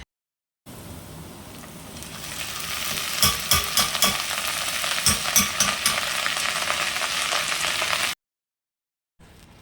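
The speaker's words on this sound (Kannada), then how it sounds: "ಈ ನುಗ್ಗೆ ಸೊಪ್ಪನ್ನು ಒಗ್ಗರಣೆಯಲ್ಲಿ ಚೆನ್ನಾಗಿ ಬಾಡಿಸ್ಕೋಬೇಕು" Drumstick leaves hissing and sizzling in hot oil with softened onion tempering, a steady loud fry with repeated stirring clatters from a spoon in the pan, no talking.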